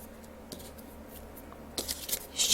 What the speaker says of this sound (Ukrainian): Ріжемо точніше квадратики, ось так загинаємо, потім обрізаємо лишні і зрізаємо краєчки